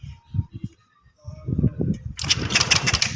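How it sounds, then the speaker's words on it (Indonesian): EFI motorcycle engine cranked with the electric starter and catching into a buzzing idle near the end, preceded by short mechanical clicks and rattles, close and fairly loud. "Kita nyalakan motor. Nah, selanjutnya kita starter."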